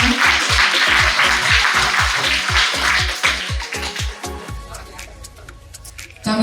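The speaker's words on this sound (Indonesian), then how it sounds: "Tepuk tangan untuk rekan-rekan kita semua" Rhythmic group applause rings out for colleagues at a school book-writing training event, steady clapping in a regular beat that fades into scattered taps.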